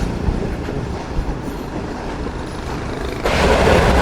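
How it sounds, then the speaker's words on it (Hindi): Rumbling wheels and rattling carriages of the Shalimar Express on the Bahawalpur to Karachi run as it approaches Kotli Junction, a steady loud roar that grows fuller and louder near the end, with no voices. "जिस वक्त हमारी ट्रेन बहुत ज़बरदस्त और अप्रोच बना रही है कोटली जंक्शन रेलवे स्टेशन पर"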